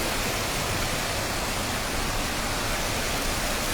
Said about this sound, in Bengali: এখান থেকে ওয়াটার ক্যাননের মাধ্যমে ওইখানে জল যাচ্ছে।